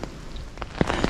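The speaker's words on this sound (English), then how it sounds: "in the time it's taken me to put my jacket and shoes on, it started raining again." Rain falling outdoors on a wet day, a dense steady patter with a few louder close drops striking a surface, alone with no talk.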